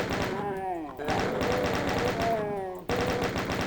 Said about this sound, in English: Chain gun's a nice sniping tool here.